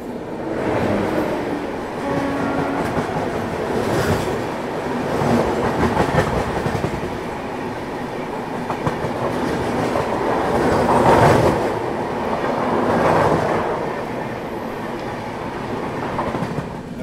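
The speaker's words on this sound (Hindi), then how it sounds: "खूबसूरत लोकोमोटिव के साथ सामने से आ रही है तेलंगाना एक्सप्रेस।" The Telangana Express, led by its locomotive, passes at a railway crossing with a loud, continuous rumble and rhythmic wheel clatter close by throughout.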